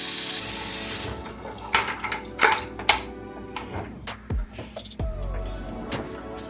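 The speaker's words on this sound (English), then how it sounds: "I then fill my bucket with 2 gallons of water." Water runs from a tap into a bucket being filled with about two gallons for a rinseless car wash, with splashing, clunks and handling noises as the stream starts and stops.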